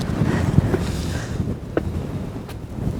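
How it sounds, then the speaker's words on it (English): Strong, cold north wind buffeting the microphone at Nordkapp, Norway, the northernmost point of Europe beside the open sea, a steady roaring rush with gusty swells throughout. "it's windy out here though."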